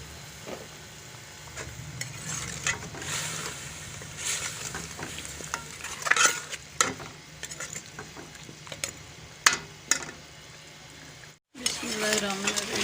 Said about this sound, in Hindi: ये आलू शामिल कर रही हूँ।